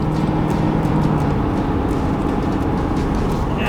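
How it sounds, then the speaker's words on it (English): A Ford F-450 Super Duty pickup with a 10-speed transmission drones steadily while towing on the road, a loud, constant engine and road rumble heard from inside the cab, with no clear gear change and no voices. "Now the overdrive gears."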